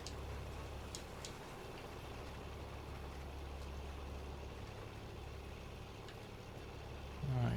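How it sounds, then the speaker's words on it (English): A tractor engine idles steadily in Farming Simulator 19 on the Medicine Creek map, a low, even rumble that holds throughout and swells louder at the very end. "let's check on our tractor"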